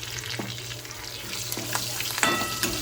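Asafoetida, garlic and large green chillies sizzle and crackle steadily in a hot pan, with a few sharp pops and stirring scrapes. No one speaks.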